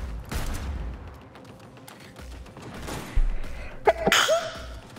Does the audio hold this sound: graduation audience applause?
no